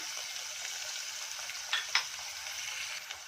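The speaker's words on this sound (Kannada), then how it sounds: "ಚೆನ್ನಾಗಿ ಒಂದ್ಸಲ ಫ್ರೈ ಮಾಡ್ಕೊಳ್ಳೋಣ" Onion, tomato, ginger and garlic frying in a pan, a steady close sizzle throughout with a couple of brief stirring scrapes.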